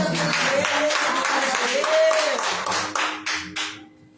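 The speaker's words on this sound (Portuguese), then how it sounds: "Eu dou essa oportunidade às palmas do Senhor." A small congregation clapping during a home worship service, rhythmic handclaps mixed with voices, thinning into a few scattered claps toward the end.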